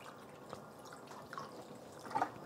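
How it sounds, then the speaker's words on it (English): Water pours gently into a pot of soy sauce chicken wings, a faint trickle and a few light splashes that swell briefly near the end, with no talk. "Adding just a little bit more water."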